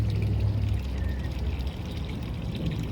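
Gold concentrate and water poured into a sluice at an Alberta gold-prospecting camp: a steady close wash of pouring, trickling water that runs unbroken and fairly loud throughout.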